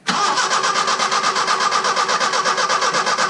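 A Datsun 620 pickup with Megasquirt fuel injection being cranked, the starter whirring in a loud, even, rhythmic pulse right up close without catching.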